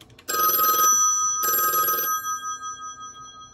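A Western Electric 500 desk telephone's mechanical bell rings in two loud, close bursts of about half a second each, the second trailing into a fading metallic ring.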